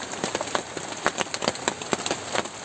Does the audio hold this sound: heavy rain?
yes